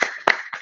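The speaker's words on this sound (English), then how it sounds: "I'll just be clapping for that." A single person clapping hands at a virtual meeting, three sharp close claps spaced about a third of a second apart, alone and with no talking.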